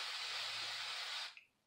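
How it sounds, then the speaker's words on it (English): A spray bottle mists a light blonde wig in one long hissing burst lasting over a second, ending in a short puff and fading into quiet. "I'm going to spray that a little bit."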